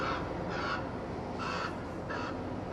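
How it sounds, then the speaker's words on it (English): Ravens give four harsh, croaking caws in a slow, evenly spaced series over a steady hiss of wind or ambient noise, moderately distant, with no talking. "The author and illustrator Jackie Morris listens to the language of ravens."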